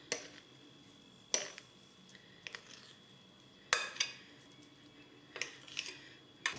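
A knife taps and scrapes scone dough turned out onto a floured surface, producing four sharp clinks spaced a second or two apart over a faint steady background hum.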